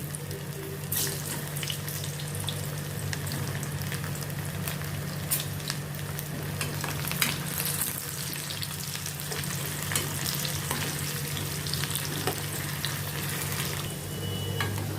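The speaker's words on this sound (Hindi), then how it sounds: "अभी ऑयल में मैं ये आलू डालती हूँ, फ्राई करती हूँ इनको।" Potato pieces for dum aloo fry in hot oil in a home kitchen pan, a dense, close sizzle that stays steady throughout, with occasional scraping stirs and no talking.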